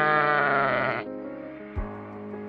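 One sheep bleats loudly and close for about a second, followed by softer trailing bleat tones and a faint bump of background noise.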